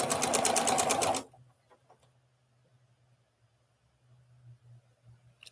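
A quilting sewing machine runs in a fast, loud, rhythmic stitching burst for about a second and then stops, leaving a faint low hum and small clicks.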